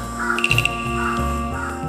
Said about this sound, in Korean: 까마귀가 웃는 것 같아.